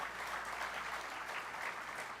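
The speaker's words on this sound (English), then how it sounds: "A huge round of applause for these leaders stepping up to work in this party." Steady applause from a party convention crowd greeting newly elected state party leaders, a dense, even clatter of many hands that fills the room without a break.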